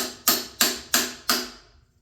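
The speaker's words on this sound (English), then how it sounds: "I'm just gonna grab a hammer here." Four sharp, evenly spaced metallic hammer strikes on a stuck stem of a 1995 Haro Sport bicycle, close and fairly loud, each blow ringing briefly before the next, with the last fading out.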